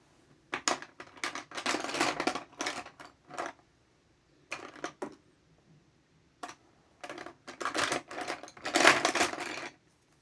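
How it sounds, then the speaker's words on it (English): Bursts of clattering wooden and plastic rattles from pencils being rummaged through in a container come in irregular clusters with short pauses between, close to the microphone. "Sorry, that noise is me going through my pencils."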